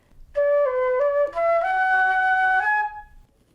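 A flute plays one measure of a song, a short run of clear sustained notes that step between pitches, loud and close, with no talking.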